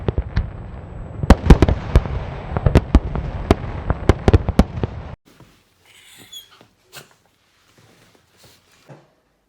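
Fireworks pop and crack in a rapid, irregular string for about five seconds, then stop; afterward only a few faint scattered clicks and bangs break the near silence.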